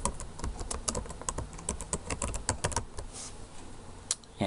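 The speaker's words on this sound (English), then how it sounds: "Third option is you can just physically type into this" Typing on a computer keyboard during an exam entry, with quick irregular clusters of crisp, close key clicks and short pauses between bursts.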